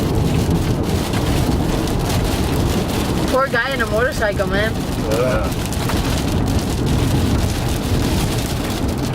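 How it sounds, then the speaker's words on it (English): Heavy rain pours during a thunderstorm as a loud, dense roar that fills the whole stretch, with a low rumble beneath and people talking briefly midway. "Now it's raining."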